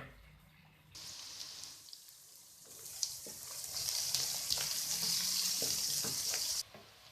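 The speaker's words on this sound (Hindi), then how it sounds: "प्याज को फ्राई करेंगे।" Onions frying in hot oil for a spicy chicken and capsicum curry, a broad hiss that starts suddenly and builds to a steady, loud sizzle with faint clinks, then cuts off near the end.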